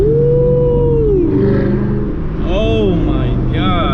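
A 500+ hp Camaro SS V8 pulls hard in second gear after a rev-matched downshift, a loud continuous engine roar with rising pitch sweeps and a brief dip before climbing again, with people talking over it.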